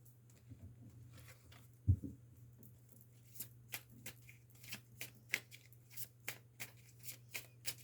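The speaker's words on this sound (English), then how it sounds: "I don't usually look at the bottom when I'm shuffling" Playing cards shuffled by hand, a quiet run of crisp riffling taps and flicks building into a steady patter, with one sharper knock near the start and no talk.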